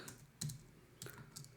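Several quick keystrokes clack on a computer keyboard at close range, arriving in two or three short soft bursts with quiet gaps between them.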